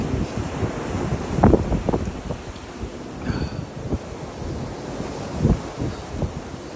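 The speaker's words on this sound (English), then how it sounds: "Super windy, so if you're on one side of the mountain, it's super windy, like now." Strong wind on a mountain buffets the microphone in rough, rumbling gusts that swell and ease without any pause.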